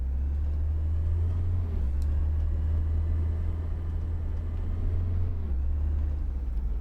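Engine of a W906 minibus in Tourist Bus Simulator, a steady low droning hum with a strong deep rumble that holds constant throughout, loud and close with no talk over it.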